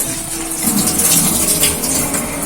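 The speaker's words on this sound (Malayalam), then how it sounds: "കുറച്ച് തണുത്ത വെള്ളം ഒഴിച്ച്" Cold water pours steadily into a vessel to rinse rice, a continuous splashing gush that stays even throughout.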